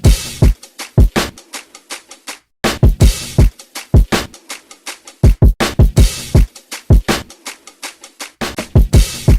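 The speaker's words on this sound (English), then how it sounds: "once you've got that drum beat in, it should sound like this." A punchy hip-hop drum loop plays alone: booming kicks and sharp snares in a steady, bouncy pattern with brief gaps between hits.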